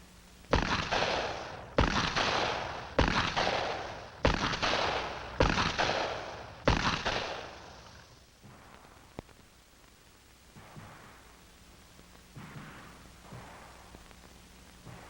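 Pistol shots at a 1960s FBI training range: six loud, booming reports about a second apart, each ringing out before the next, then fainter scattered pops in the distance.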